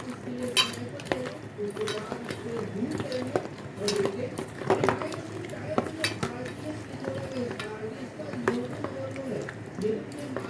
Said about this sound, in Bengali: আর দিয়ে দেবো সামান্য সর্ষের তেল দিয়ে ভালো করে মেখে নেব